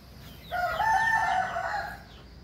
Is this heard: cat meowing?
no